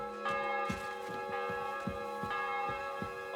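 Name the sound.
bell ringing in video game Kingdom Come Deliverance 2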